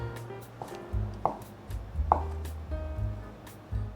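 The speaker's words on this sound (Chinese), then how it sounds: "准备2片豆干，切片" Dried tofu (doufu gan) being sliced with a knife on a cutting board, a series of soft, evenly spaced chopping taps, close and fairly quiet.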